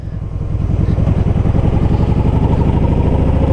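A Kawasaki Voyager motorcycle engine runs steadily close by, its loud, even pulsing throb rising slightly at the start and then holding a constant rhythm.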